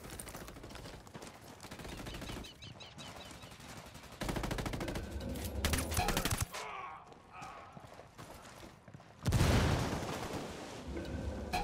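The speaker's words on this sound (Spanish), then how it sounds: "Disparo a estos cableados." Rapid bursts of gunfire in the game Tom Clancy's Ghost Recon rattle in dense volleys, loud and close, with sharper louder bursts near the end.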